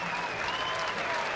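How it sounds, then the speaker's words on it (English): Crowd applause at a spring training baseball game as a pitcher exits, a broad steady wash of clapping throughout at moderate distance, with no speech over it. "getting used to that applause as he exits"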